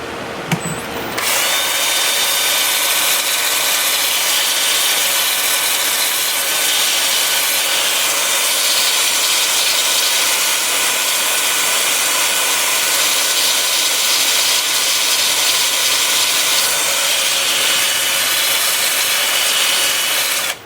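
An end grain mesquite bowl is sanded on a wood lathe, giving a steady, loud broadband whir and hiss that starts abruptly after a second and runs on unbroken, with no talking.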